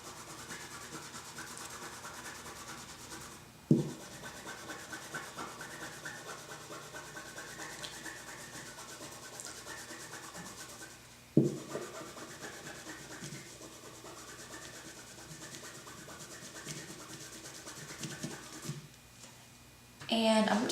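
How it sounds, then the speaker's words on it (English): A bar of soap is rubbed back and forth on grease stains in fabric, making a steady scratchy scrubbing, with a few sharp knocks as things are set down and a voice talking over it. "take the bar and just rub it on where the stains are."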